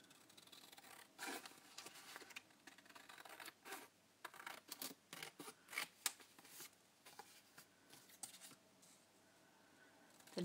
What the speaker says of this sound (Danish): Og så klipper vi den lige til her.